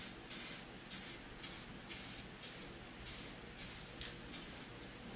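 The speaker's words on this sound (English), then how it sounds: "it kind of sprays out, you know, in a line, so if you need to sneak into something, turn the can" A Spraymax clear coat aerosol can spraying in short hissing bursts, about nine close, evenly spaced blasts with brief pauses between them.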